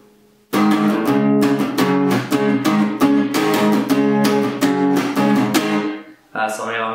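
An electric guitar plays a riff, with loud, rhythmic strummed chord hits in a steady driving pattern for about six seconds, alone without talk.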